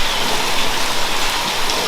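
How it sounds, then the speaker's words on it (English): Steady heavy rain falls on a farm, a dense, unbroken hiss of drops hitting surfaces, loud and close throughout with no voices. "I don't want to get out in the rain here"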